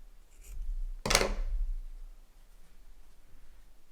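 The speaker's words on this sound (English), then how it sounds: "I take my scissors and I just snip up just a little bit" Single quick scissor snip through folded cotton fabric, a short crisp cut near the one-second mark amid quiet room hum.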